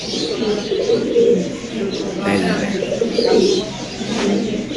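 Pigeons cooing at a pigeon farm, including white beauty pigeons: steady, soft, rolling coos from several birds close by, continuing throughout under a voice.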